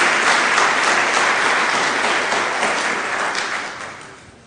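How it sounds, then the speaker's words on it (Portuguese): Applause fills a church congregation, steady and dense clapping at close range that slowly fades over a few seconds, with no voices over it. "Uma salva de palmas ao Senhor."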